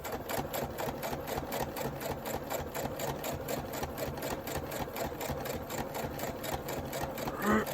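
A sewing machine stitches junk journal pockets, running in a fast, even mechanical chatter of needle strokes for several seconds, quiet and close with no talking.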